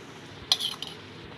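A spoon scrapes and clinks briefly against a pan while mango pickle mixture is stirred into a curry-leaf tempering, a short metallic burst in an otherwise quiet kitchen.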